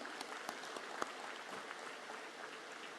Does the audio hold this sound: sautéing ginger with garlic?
no